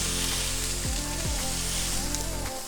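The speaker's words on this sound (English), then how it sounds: "smash them down as hard as you can, like that" Smash burger patties sizzle loudly and steadily on a hot griddle, with a couple of brief scraping presses from spatulas partway through and a sharp clatter at the end.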